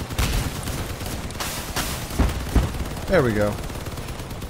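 Vehicle-mounted weapons firing in the vehicle shooter game Crossout, with bursts of close gunfire and booming impacts. Someone speaks briefly over the shooting.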